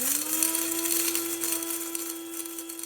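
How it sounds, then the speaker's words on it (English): Electric spice grinder whirring steadily as it grinds about two teaspoons of fennel seeds, a continuous motor hum with a gritty, rattling whir on top, close and fairly loud throughout. "grab a spice grinder and add in some fennel seeds"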